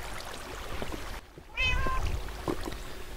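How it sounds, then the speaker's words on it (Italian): A cat in Minecraft lets out one clear, close meow against a quiet background with trickling ambience. "Miau! Dove sei, gatto?"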